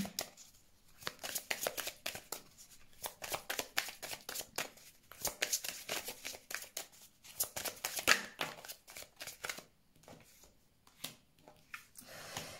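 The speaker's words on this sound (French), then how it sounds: "Je vais mettre des cartes sur l'argent parce que je voudrais voir un petit peu ce que ça concerne." Tarot or oracle cards are shuffled and laid out during a Valentine's Day fortune-telling reading: a steady stream of crisp riffling and flicking card noise with small slaps, close and moderately loud, with no talking.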